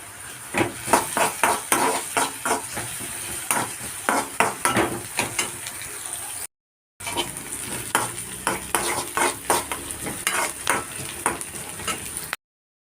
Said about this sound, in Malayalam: ഇനി ഇതിലേക്ക് ഞാനിതാ ഒരു മൂന്ന് വറ്റൽമുളക് ഇട്ട് കൊടുക്കുന്നുണ്ട്